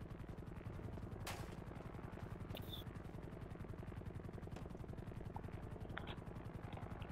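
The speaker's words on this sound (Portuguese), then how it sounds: "estou a ouvir um helicóptero" A helicopter's rotor in GTA V chops steadily and loudly throughout, a continuous rapid thudding beat with a few sharp distant bangs layered on top.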